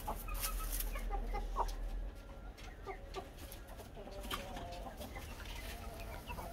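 A chicken clucks in short, scattered bursts as it is held and a band is fitted to its leg, the clucks loud against a steady background hiss.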